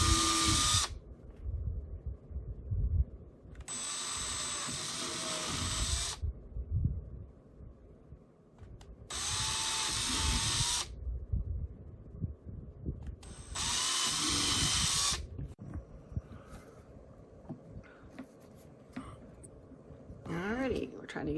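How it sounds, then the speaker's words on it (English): A power drill bores holes in a portable ham radio battery box. It runs in four loud, close bursts of a few seconds each, separated by short pauses and followed by quieter handling noise. "So I'm going to pull that out and I'm going to drill the holes here."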